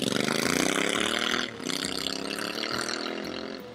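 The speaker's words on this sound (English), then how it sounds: "the 650 twin, of course, has an absolutely special and unique sound, but I wouldn't call it a thump as much as a rumble" A Royal Enfield 650 twin-cylinder engine with a 270-degree firing angle revs loud and close, a buzzing rumble that rises in pitch, dips briefly, then holds steady.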